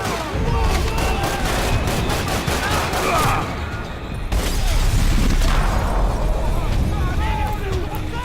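Rapid full-auto rifle fire in the Max Payne 3 video game, a dense, loud, continuous rattle of shots with gunfight noise and booms behind it, pausing briefly midway before resuming.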